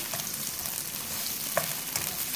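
Sliced onions, about 150 grams, fry in a pan over a medium flame with an even, moderate sizzle and a few faint stirring clicks.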